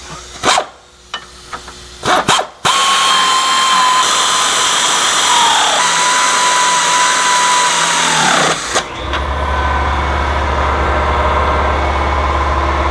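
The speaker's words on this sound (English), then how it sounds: "take the air ratchet and go ahead and snug everything up" Air ratchet snugging up bolts on high-clearance rear A-arms of a RZR, a loud sustained pneumatic whir after a few short clanks, with a brief tone shift midway and a low compressor hum continuing afterward.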